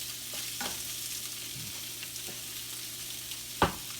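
Corned beef warms in a hot pan for a Reuben sandwich, giving a soft, quiet sizzle with a few scrapes of stirring and one brief sharp clatter near the end.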